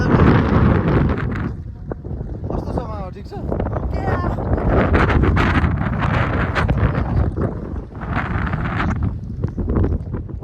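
Strong wind on a hilltop buffets the microphone in heavy, continuous gusts, with people talking briefly underneath.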